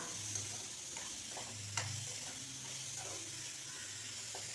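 Chayote pieces and tomato sautéing in a pan, a steady soft sizzle with occasional stirring scrapes and clinks, close and fairly quiet, with no talking.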